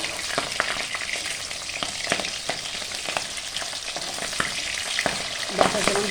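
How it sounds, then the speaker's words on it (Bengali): Pabda fish sizzles in hot oil in a pan, a close, continuous crackle dotted with sharp pops and a few soft clinks as the pieces are turned, with no voices. "আর একটা গরম তেলের আওয়াজ পাচ্ছে"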